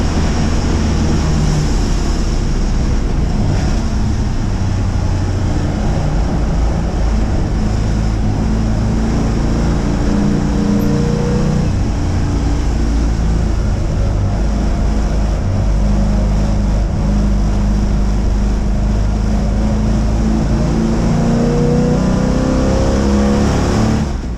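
Historic pre-1966 touring cars, a Ford Mustang among them, race at Silverstone. Loud engines howl and rev continuously, rising and falling through gear changes as the cars pass nearby over a steady racing roar.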